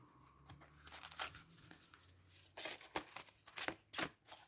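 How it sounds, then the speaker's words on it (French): Oracle cards shuffled and slid together in a divination reading, giving a series of quick papery riffles and flicks with a few louder snaps, close and fairly quiet, no talking. "Les cartes glissent bien."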